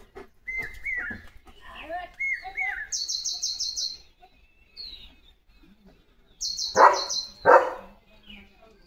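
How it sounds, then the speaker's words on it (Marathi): Birds chirp in short repeated bursts, a dog barks twice loudly nearby, and faint voices are heard in between. "पक्ष्यांचा आवाज बघ ना किती छान येतोय"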